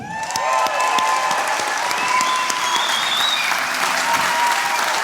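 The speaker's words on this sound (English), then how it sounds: "Make some noise for Ben Birchall and Dean Harrison." A large crowd at the Isle of Man TT launch applauding steadily with scattered cheers and whistles, loud and sustained throughout.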